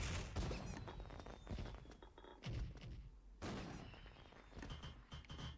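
Gunfire in the Special Force video game, heard as sharp, close shots fired in quick bursts with short pauses between them, some of the reports heavy and thumping.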